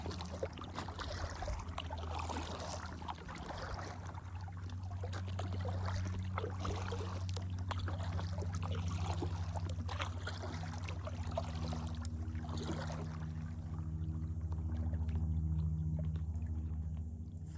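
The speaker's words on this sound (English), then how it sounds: "Something about the sound of an oar going through the water." Kayak paddle strokes pulling through the water of the St. Johns River, soft splashes and swirling drips close by over a low steady rumble, with no voices.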